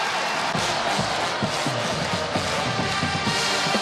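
Standing-room-only crowd at a college basketball game cheering in a steady, dense roar with a few shouts rising above it, the whole arena noise continuous and loud.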